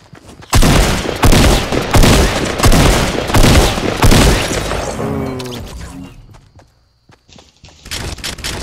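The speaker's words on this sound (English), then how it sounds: "You're getting sniped." Gunfire in the video game Fortnite during a sniping exchange, with loud, rapid overlapping shots and impacts packed together for several seconds before tapering off into quieter scattered sounds.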